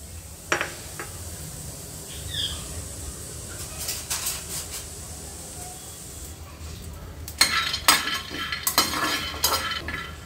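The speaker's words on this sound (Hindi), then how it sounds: "अब मैं इसमें फल्ली डाल दूँगी।" Peanuts are tipped into a hot pan and stirred, giving scattered metallic scrapes and clinks with bursts of rattling toward the end, fairly faint and without talk.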